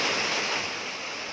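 Rushing floodwater of the Pinilla River in Rizal roars as a steady, loud broadband wash, continuous and close, with no voices.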